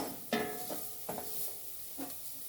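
Chopped garlic frying in a pan, a faint steady sizzle broken by a few short stirring scrapes, quiet and close with no talk.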